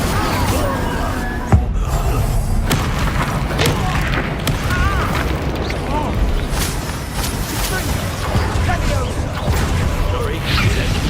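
Spells Incendio and Confringo are cast again and again in Hogwarts Legacy, making loud booming blasts and crashing impacts in a dense, continuous barrage, with a sharp burst near the start.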